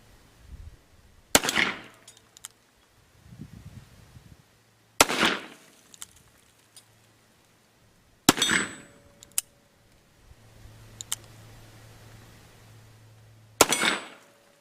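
Colt Python .357 Magnum revolver with a 4-inch stainless steel barrel fires four loud, sharp shots spaced a few seconds apart, each one ringing out with a short echoing tail and with low rumbling between them.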